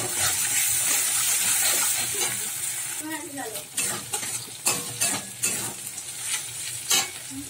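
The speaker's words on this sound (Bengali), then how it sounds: "আদা রসুন বাটাটা একটু নেড়ে নিলাম তেলের মধ্যে" Ginger-garlic paste is stirred into hot oil over onions fried until reddish, giving a steady sizzle with scraping utensil strokes and clinks against the pan, close and fairly loud, with no talking.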